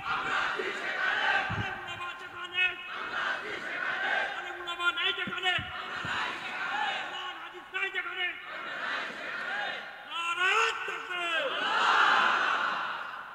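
A large crowd at a Bangladeshi religious sermon chants takbir responses in loud, surging waves, the mass of voices rising and falling repeatedly throughout, with a leader's voice calling between them.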